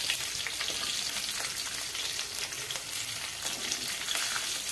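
Chili, curry leaves and 8-10 garlic cloves sauté in oil in a pan, giving a steady, dense sizzle with crackling pops throughout, close and fairly loud, no voices.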